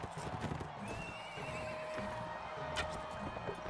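Horse hooves clip-clopping steadily with a neigh in Mount & Blade: Warband during a bow and javelin tournament, the beast taking a beating, all set against a busy, continuous game-world din.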